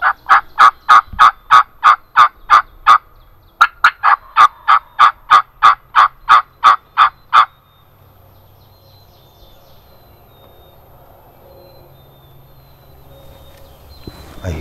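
Wild turkeys in the New York woods: two loud, evenly paced runs of sharp turkey calls ring out close by, followed by quiet outdoor ambience.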